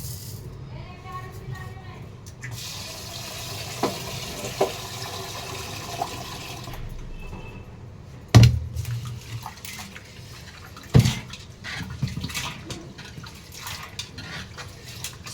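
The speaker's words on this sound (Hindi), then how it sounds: "चावल को अगर ये धोना ना अच्छी तरह 2-3 बार, तो ये चावल थोड़ा काला काला रहता है" Rice being rinsed and swished in water in a home kitchen, the washing repeated two or three times. The sloshing water runs at moderate level with a few sharper splashes and knocks, while a voice is faintly present.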